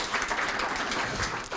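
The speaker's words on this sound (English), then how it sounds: "give yourself a round of applause because you guys are amazing" Applause from an audience at a charity walk kickoff luncheon, a steady wash of clapping at moderate distance that keeps up evenly for the whole short stretch and fades slightly at the end.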